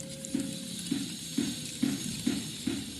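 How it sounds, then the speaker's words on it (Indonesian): A whisk stirs melted butter with palm sugar in a bowl, six regular scraping strokes in an even rhythm, close and fairly quiet, with no talking. "campur butter leleh dengan gula palem. Aduk rata menggunakan whisker."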